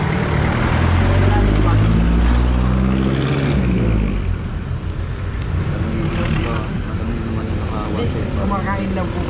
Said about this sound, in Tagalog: Ito yung traffic.